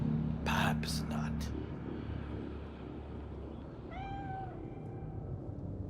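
A cat in the Cyberpunk 2077 video game gives one clear, mid-length meow. Hushed whispering comes just before it over a low ambient rumble.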